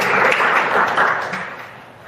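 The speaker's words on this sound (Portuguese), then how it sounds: "mais palmas para Jesus" A church congregation claps together during a worship service, a dense, steady patter of many hands that swells briefly and then fades over about two seconds, with no voices over it.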